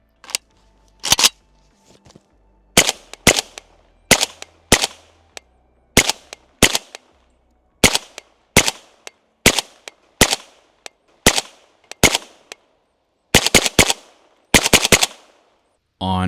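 A 7.62x39 rifle fires through a 3D-printed B&T Print-X suppressor: about twenty sharp, muffled cracks, some single and some in quick pairs or bursts, with short pauses between them.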